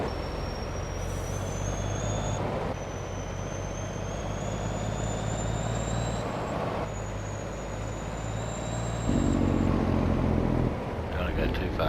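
Truck driving in Farming Simulator 22, a steady engine rumble with a faint high whine and a brief louder shift partway through, no talk over it.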